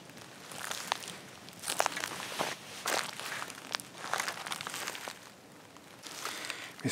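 Footsteps crunching over noisy, leaf-littered ground in the woods, a series of soft irregular crackling steps, faint and close, with no speech.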